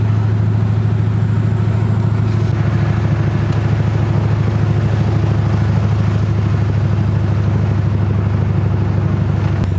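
A Ford Crown Victoria cruising on the road, its engine a loud steady low drone heard from inside the car with constant road rumble, unbroken and with no talk.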